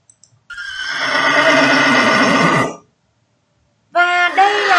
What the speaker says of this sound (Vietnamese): Đây là tiếng của một chú ngựa